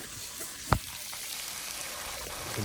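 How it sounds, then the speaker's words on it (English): Bacon and a frankfurter fry in a pan outdoors on a beach fishing trip, a soft steady sizzle close by with one brief sharp pop or knock. "Some bacon cooking up with a frankfurter."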